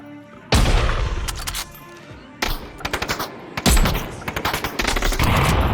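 Sniper rifle fire in the VR shooter Onward, played with bHaptics haptic support: loud, close shots with sharp reports and heavy booming tails, arriving in three separated bursts over several seconds with no talk.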